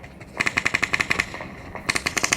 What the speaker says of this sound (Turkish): silah sesleri oradan geliyor